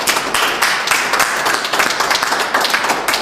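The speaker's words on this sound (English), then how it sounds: "I think they deserve a big round of applause." Audience applause at a NASCAR-themed gathering, a dense steady patter of many hands clapping close and loud for a few seconds with no talk over it.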